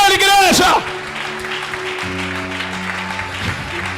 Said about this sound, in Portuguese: A salva de palmas para o Senhor Jesus, igreja.